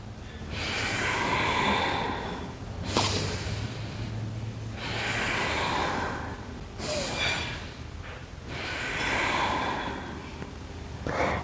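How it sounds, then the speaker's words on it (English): Quick breaths drawn in and pushed out during a guided breathing exercise, several rhythmic inhale-exhale cycles in a row, close and fairly loud, with no talking over them. "Inhaling, exhaling, inhaling, and exhaling 3 more times"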